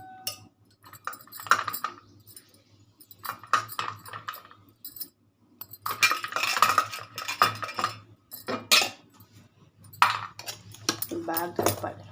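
A metal spoon scrapes and clinks against a bowl while carrot idli batter is stirred, with irregular bursts of clattering and brief quiet gaps between them, close and moderately loud.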